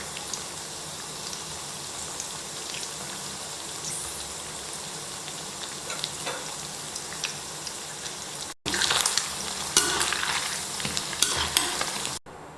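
Eggs fry with holy basil leaves in a pan over medium heat, giving a soft continuous sizzle with stirring scrapes, then a sudden louder, crackling burst of frying near the end.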